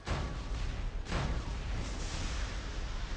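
A cannon fires in the War Robots video game with a deep, booming blast, followed by a second blast about a second later, each leaving a rumbling tail that lingers under the continuous battle noise.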